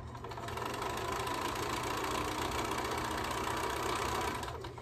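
A sewing machine stitches rows of a quilt top in one continuous, loud, even mechanical whir that ramps up at the start and slows to a stop at the end, with no talking.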